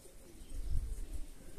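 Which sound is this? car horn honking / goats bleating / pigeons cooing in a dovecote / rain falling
pigeons cooing in a dovecote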